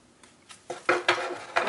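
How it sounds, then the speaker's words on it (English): Tarot cards are shuffled in quick, soft riffling bursts, a handful of close, papery flutters growing slightly louder toward the end. "Let's do one more because that wasn't a very good shuffle."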